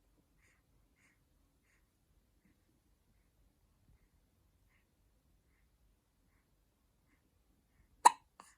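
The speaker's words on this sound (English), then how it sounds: "That was a big hiccup." One sharp, short hiccup breaks a long near-silence, followed by a tiny second catch of breath, close and fairly loud.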